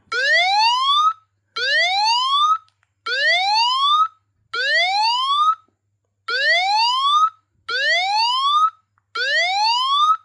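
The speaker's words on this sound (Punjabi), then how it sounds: "ਤੁਸੀਂ ਦੇਖਿਓ ਅਲਾਰਮ ਕਿੰਨੀ ਜ਼ੋਰ ਜ਼ੋਰ ਨਾਲ ਵੱਜਣੇ ਆ" A loud electronic anti-theft alarm on an Android phone wails in seven rising sweeps, each about a second long with short gaps between, repeating steadily and close by.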